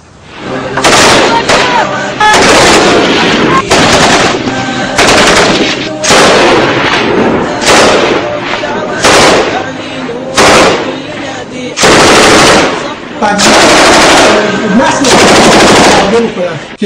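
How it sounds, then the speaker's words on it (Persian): Heavy gunfire fills the air with dense, continuous bursts of machine gun shooting and loud cracks, close and very loud, with brief gaps between long volleys. "صدا تیراندازی رو ببر بالا."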